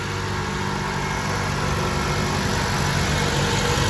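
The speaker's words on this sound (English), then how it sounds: "So I'm gonna start the vehicle up, do a quality control check" A Dodge Caliber engine idles steadily at close range, a continuous even rumble with no other sounds over it.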